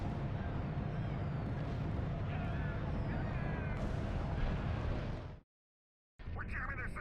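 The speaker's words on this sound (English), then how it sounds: "Ah, there's the bombardment." Bombardment explosions in a Star Trek video game form a loud, continuous rumbling barrage with crackling bursts for about five seconds, then cut to silence before the din resumes.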